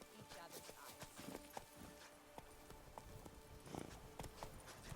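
A horse gallops in a video game, its hooves clip-clopping in a quick, rhythmic run that stays faint and distant throughout.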